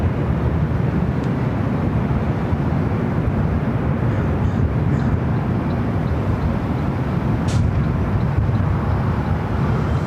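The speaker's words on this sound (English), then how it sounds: "this is the flight heading to Raleigh, Durham, rolling down to 24 left" Airliner at LAX rolling down runway 24 left for a flight to Raleigh-Durham, a steady broadband jet roar that holds evenly and fairly loud throughout, with no speech.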